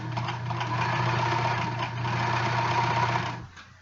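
A sewing machine stitches through thick, heavy fabric with a steady, fast mechanical whir and a strong low motor hum. It runs loud and close for about three seconds, then stops abruptly.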